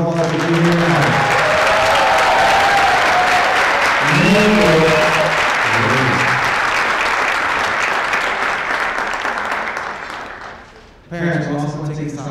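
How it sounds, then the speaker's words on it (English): Elementary and high school winter concert audience giving a loud, sustained round of applause, with a speaker's voice over the clapping early on before it fades and talk resumes. "Family, can we give a round of applause for being here?"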